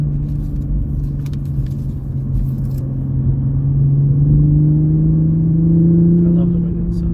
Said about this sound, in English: it sounds so deep in person, compared to all the videos that you watch of the Supra